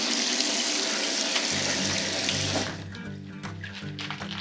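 Tap water gushes loudly into a sink as vegetables for borscht are rinsed, then the flow is cut off, leaving a low hum and a few quiet clinks.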